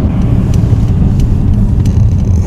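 A Mercedes drives close by on the road, with a steady, loud road and engine rumble, tires hissing on pavement throughout.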